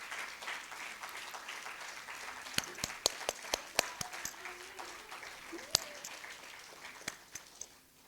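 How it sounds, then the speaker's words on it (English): Scattered clapping from a small audience, sparse sharp claps over a soft murmur, fairly faint and tapering off toward the end. "A big round of applause to the entire committee and organization."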